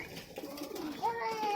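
Caged quail give a brief, faint call that ends in a thin, rising whistled note, with soft background movement and murmuring.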